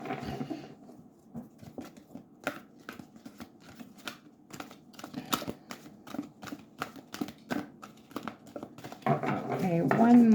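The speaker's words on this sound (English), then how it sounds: "So a couple more shuffles, and then we will get started." Tarot cards are shuffled by hand in a quiet room, giving a string of crisp, irregular snaps and riffles that swell into a louder, continuous riffle near the end.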